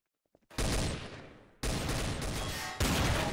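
Gunfire in the video game Trouble in Terrorist Town erupts as sustained automatic bursts after a few faint clicks, loud and dense, with two harder surges of fire.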